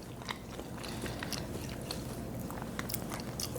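Crisp crunching bites into fried calamari tubes, soaked beforehand in a milk, baking soda and lemon mixture, with a steady run of crackly chewing close to the mic and no talking.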